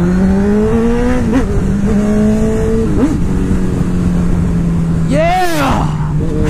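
A sport motorcycle engine revs up under acceleration, its pitch climbing and dropping through several gear changes, close and loud over constant wind rush, with a voice faintly underneath.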